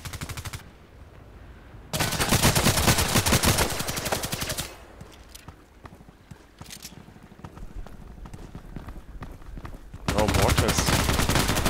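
An RPK machine gun fires in the video game Contract Wars in two long, loud sustained bursts of rapid automatic shots, with quieter scattered gunfire between them.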